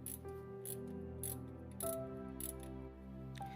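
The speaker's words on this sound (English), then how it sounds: "going underneath the alternator with my ratcheting wrench, and I'm turning the bolt on the tensioner clockwise" Ratcheting wrench turning the tensioner bolt under the alternator of a Nissan Versa Note, giving a series of quick clicking ratchet strokes close by over a faint steady tonal hum.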